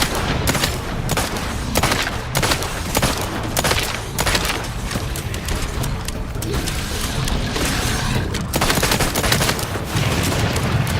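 Sustained bursts of automatic gunfire from The Outer Worlds 2, dense rapid shots with booming impacts packed tightly across the whole stretch, loud and continuous with barely a pause.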